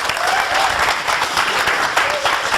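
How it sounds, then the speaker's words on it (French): A studio audience claps loudly and continuously during a broadcast show, a dense burst of applause with no pauses. "Applaudissements."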